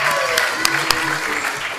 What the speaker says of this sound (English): a really large round of applause to Marcia and Deb and Deborah and Susan and Dave